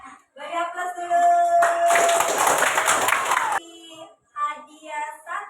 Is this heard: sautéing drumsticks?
no